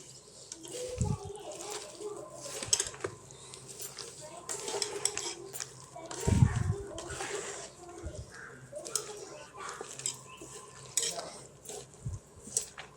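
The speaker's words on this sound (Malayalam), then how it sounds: "എന്നിട്ട് ഇത് നല്ലപോലെ ഇളക്കി യോജിപ്പിക്കണം കേട്ടോ." Jackfruit pieces mixed with ground paste and water in a pressure cooker are stirred with a utensil, making irregular scraping and clanking of metal against the pot. A couple of sharper knocks and soft background voices come through.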